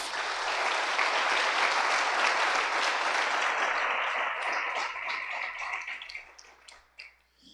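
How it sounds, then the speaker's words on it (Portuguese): Congregation at a Portuguese-language church service applauding, a loud, dense wall of clapping that holds strongly for several seconds, then thins out and fades into a few scattered final claps. "Você pode aplaudir ao Senhor por isso?"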